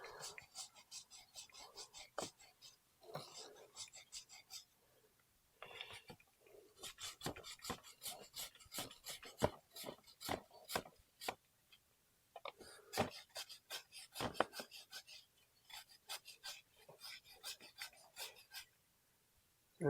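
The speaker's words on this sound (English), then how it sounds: "after you give it a good scrub" A bicycle chain being scrubbed clean with a brush, heard as close, quick bursts of scratchy bristle strokes in uneven rhythm with brief pauses; no talking.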